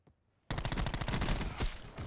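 Rapid automatic gunfire from a shooter video game bursts in abruptly after half a second of near silence, then rattles on loud and continuous in dense, fast volleys until the end.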